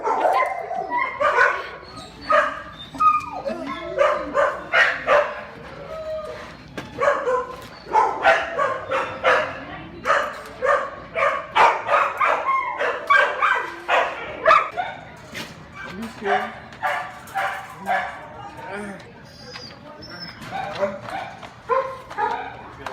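Several dogs bark, yip and whimper inside a kennel in a busy, overlapping chorus that continues throughout, up close and fairly loud.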